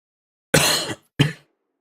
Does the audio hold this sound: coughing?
yes